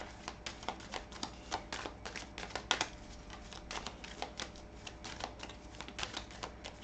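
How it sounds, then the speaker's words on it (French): Tarot cards are shuffled and drawn, a quiet, rapid run of papery flicks and riffles that continues steadily for several seconds, with no one talking. "Allez, on va prendre 2 cartes du tarot."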